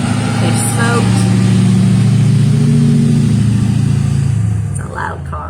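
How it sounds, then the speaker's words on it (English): A loud car engine drives by close, its mid-pitched rumble and revving swelling and then fading, heard under ongoing talk. "Loud car."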